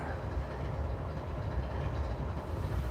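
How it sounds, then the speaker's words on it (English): CSX freight locomotive passing on a railway line at a crossing, a steady, loud, broad rumble throughout with no break. "That lead locomotive is CSX locomotive number"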